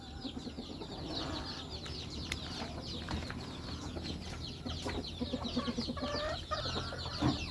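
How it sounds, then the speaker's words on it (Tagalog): Many chickens being fed cluck and chatter continuously at close range on a Philippine countryside farm, with scattered higher calls over a steady farmyard background. "Ang daming manok."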